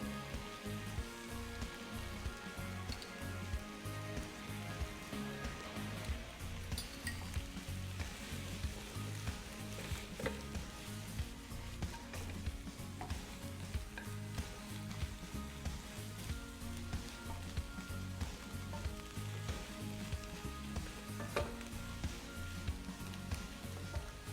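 Spinach, diced vegetables and rice stir-fry in a hot pan with a steady, dense sizzle and rhythmic stirring scrapes throughout, loud and close with no talking.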